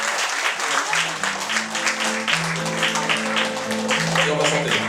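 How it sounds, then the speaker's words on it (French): A concert audience claps loudly and steadily for itself at a French song performance, with sustained musical notes playing underneath the applause. "vous pouvez vous applaudir"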